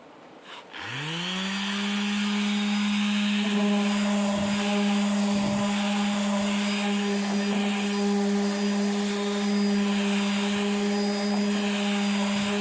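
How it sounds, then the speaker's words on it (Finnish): Electric sander running steadily on weathered deck boards with coarse sandpaper, a loud continuous motor whine starting abruptly and holding for over ten seconds with faint scraping texture beneath. "Mä aloitan tässä aika karkealla hiomapaperilla,"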